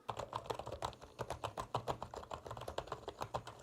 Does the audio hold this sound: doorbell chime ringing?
no